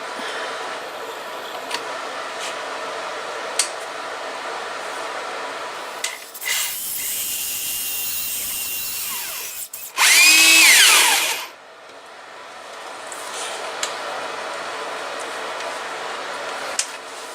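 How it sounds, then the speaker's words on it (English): A power drill whines steadily, then loudly bites into a wood block in two bursts, the second shrill and intense, before winding back down. "we're drilling that opening off to the right"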